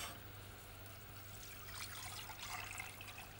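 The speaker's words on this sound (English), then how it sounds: "what I'm doing on that now, I'm pouring the chicken stock." Chicken stock being poured in a kitchen gives a faint, steady trickle and splash that swells slightly midway, heard close and quiet under a low background hum.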